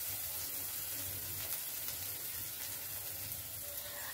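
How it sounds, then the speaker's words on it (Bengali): Onion and garlic frying in a pan over a high gas flame, a dense, even sizzle and crackle holding steady at moderate level, with no voices. "পেঁয়াজ আর রসুনটাকে একটু ফ্রাই করে নিচ্ছি"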